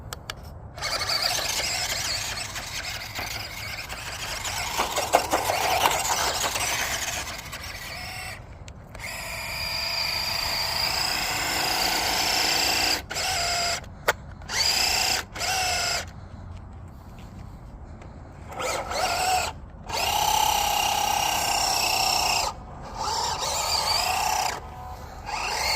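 A WPL D12 Kei RC truck's small electric motor revs hard under throttle while the truck struggles in deep, mossy grass, giving a loud, high whine that surges and drops out repeatedly in bursts.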